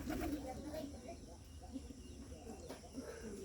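Soft, low coos of Bagha pigeons repeat at intervals against a faint background hum, with a quiet voice now and then.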